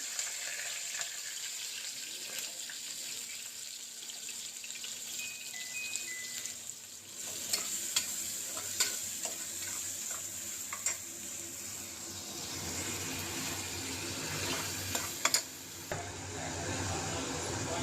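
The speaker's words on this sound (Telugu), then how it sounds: "ఆనియన్ మిక్సీ అయితే వేసుకుంటున్నాను." Blended onion paste fries in hot oil while being stirred, a steady close sizzle with scraping spoon strokes and occasional small clicks throughout, no voices.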